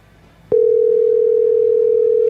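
Telephone ringing tone heard while calling a radio show guest, a single clean steady tone that starts abruptly and holds loud and unbroken to the end.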